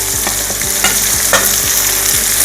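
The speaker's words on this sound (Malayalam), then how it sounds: "ഇനി നന്നായിട്ടൊന്ന് വഴറ്റി കൊടുക്കാം" Shallots and carrot sautéing loudly in a pan, a constant close frying sizzle broken by regular scraping strokes of a spoon as they are stirred.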